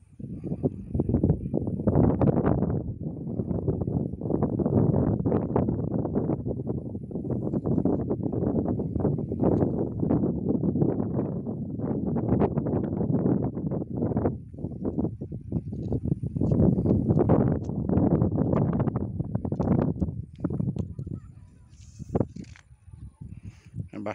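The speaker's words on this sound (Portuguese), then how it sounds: "Um barulho aí é o vento que está muito forte aqui hoje." Strong wind buffets the microphone at a reservoir spillway, a loud, continuous rumbling roar that surges and dips in gusts, with a voice speaking over it and the noise easing briefly near the end.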